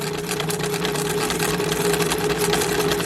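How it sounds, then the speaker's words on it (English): A sewing machine runs continuously as it overcasts along the edge of a burp cloth, giving a steady, fairly loud motor drone with no pauses. "So I'm sewing so close to that edge that it goes on and off the fabric."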